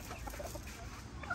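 A home-hatched rooster clucks in short, faint calls over a low background rumble, brief and somewhat distant.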